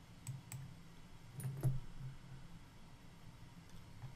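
A computer mouse gives a few faint, sparse clicks against a quiet room hiss, with no talk.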